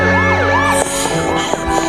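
A loud ambulance siren sound effect in a voice drama wails in fast, repeated sweeping cycles, close and dominant over the whole short stretch.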